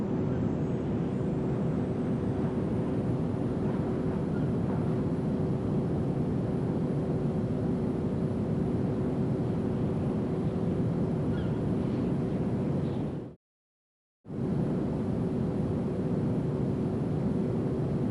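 A helicopter in the video game GTA 5 flies through a city obstacle course, its steady whirring drone holding at a constant level for many seconds and dropping out briefly near the end.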